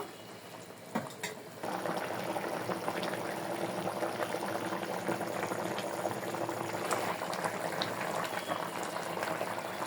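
A pot of snakehead fish curry with cauliflower and potato boiling steadily, a continuous bubbling simmer that starts after a brief quieter moment and holds at a moderate level throughout.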